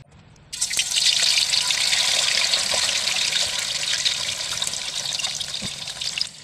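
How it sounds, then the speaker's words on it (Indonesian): Tofu frying in hot oil in a home kitchen gives off a loud, steady sizzle with scattered crackles and pops that starts suddenly and carries on with no talk over it. "Nanti mau goreng tahunya terlebih dahulu."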